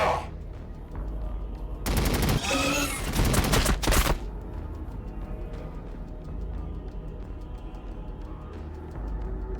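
Heavy automatic gunfire from the Warhammer 40,000 Battlesector video game, a dense fusillade of rapid shots bursting loudly for about two seconds mid-clip over a busy battle ambience.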